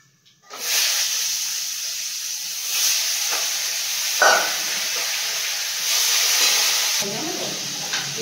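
Hilsa fish head coated in salt and turmeric frying in hot oil with black cumin, a loud steady sizzle and hiss that holds throughout with brief crackling bursts.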